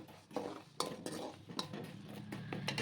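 A spoon scrapes and clinks against a metal pot of jaggery water in quick irregular strokes, close and moderately loud, with no talking.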